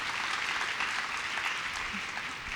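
An audience at a testimony gathering breaks into steady applause, a soft but continuous rain of clapping heard from some distance and holding evenly throughout.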